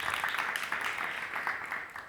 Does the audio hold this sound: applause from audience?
yes